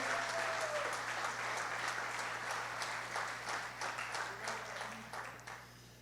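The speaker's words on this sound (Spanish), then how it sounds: "Dale un aplauso a Jesús de Nazaret." A church congregation applauds steadily, the dense clapping gradually thinning and fading toward the end, with a low hum underneath.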